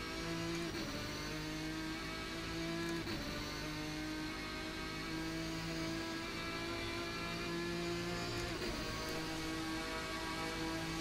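A steady, continuous race car engine drone from an Assetto Corsa mod, with strong harmonic tones, holding high revs throughout with slight pitch shifts, loud and close.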